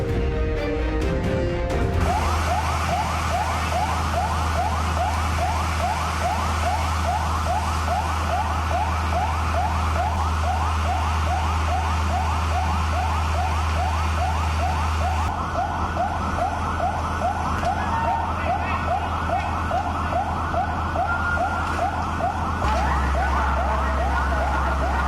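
Fire truck sirens wail continuously in a rapid, repeating up-and-down pattern, loud and steady, with a low vehicle rumble beneath, at a building fire in Jakarta.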